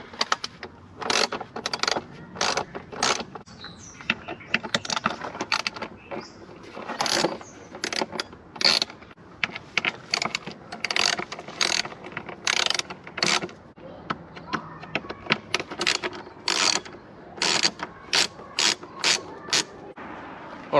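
Screws being backed out around the edges of an engine air filter housing on a BMW 3 Series, giving a long run of close, repeated metallic ratcheting clicks in quick bursts.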